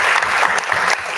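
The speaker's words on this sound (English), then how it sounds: "it's applause for these two coaches around the floor" Applause fills a convention session hall for two coaches on the floor, a dense, steady clatter of many hands clapping nearby without pause.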